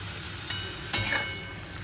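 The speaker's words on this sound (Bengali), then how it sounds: "এবার হাফ কাপ মতো জল দিয়ে দিচ্ছি আর চিনিটা দিয়ে দেবো একটু" Rice and potatoes fry in a pan as water and sugar go in, giving a steady close sizzle with one sharp splash-like burst partway through.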